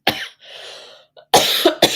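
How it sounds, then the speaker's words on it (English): A person coughs several times in sharp, close bursts with a raspy breath between them. "Made me cough."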